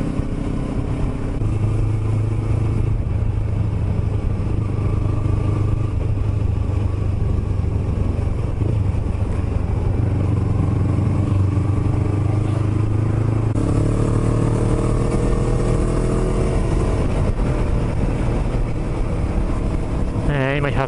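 A Yamaha YZF-R25 motorcycle rides along a touring road in Chichibu, its engine droning steadily with shifting pitch and passing vehicles, mixed with heavy wind rush throughout.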